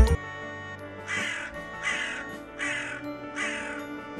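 A crow caws four times in a steady, evenly spaced series, loud and close, with a short thump at the start.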